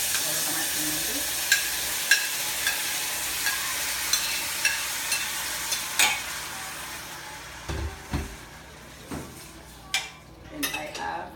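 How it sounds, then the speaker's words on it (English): Tomatoes dropped into a hot pan and stirred, with a steady sizzle and frying hiss, regular clinks of a utensil against the pan, and heavier scraping knocks toward the end. "And now I want to add my tomatoes."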